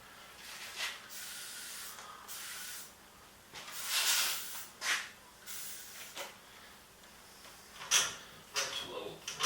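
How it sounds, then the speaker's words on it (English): WD-40 aerosol sprayed onto a cold saw, several short hissing bursts of varying length separated by pauses and handling clatter, close and fairly loud. "Big Blast WD-40."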